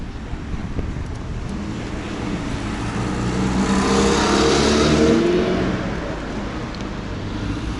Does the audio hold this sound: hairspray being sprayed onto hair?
no